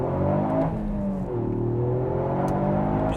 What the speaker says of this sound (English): the amount of turbo noises that this car makes is hilarious